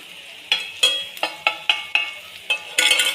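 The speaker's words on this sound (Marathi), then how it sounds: "आता हे मसाला पूर्ण तेलामध्ये आपण छान परतून घ्यायचा चांगलं तेल सुटेपर्यंत" Pav bhaji masala with Kashmiri red chilli powder sautéing in oil, stirred in a pan: a steady soft sizzle broken by about eight brisk scraping strokes of a spoon at a regular pace, close and fairly loud, with no talking.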